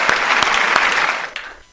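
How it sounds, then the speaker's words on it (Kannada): An audience at the Kannada Gaana Kogile Season 2 singing show claps to welcome a contestant to the stage, with loud, dense applause that tapers off toward the end. "ಸ್ವಾಗತಿಸಿ ಅವರಿಗೆ ಚಪ್ಪಾಳೆ ತಟ್ಟುವ ಮೂಲಕ"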